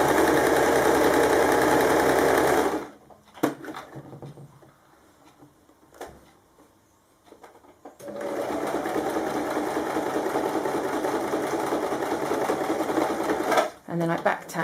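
A sewing machine stitches a kimono wrap top in two steady, close, loud whirring runs separated by a quiet pause with small clicks and handling noises, ending in a brief back tack.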